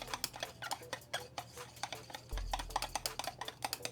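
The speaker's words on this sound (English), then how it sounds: "Mix well as you add in increment, just little at a time." Homemade liquid hand wash mixture stirred in a container, a quiet series of rhythmic scraping and clinking strokes that repeat steadily, with a low hum joining partway through.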